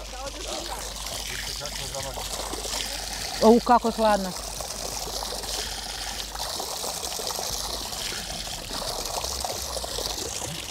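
Spring water trickles and pours steadily nearby in the mountains while people talk over it, and one voice briefly rises in an exclamation.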